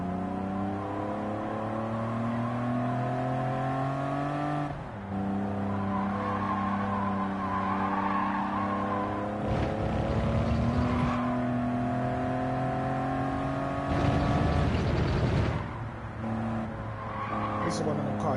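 A heavy race car in a racing video game, with its engine droning and shifting pitch through gears while tires squeal and skid in two bursts, as a player talks over it.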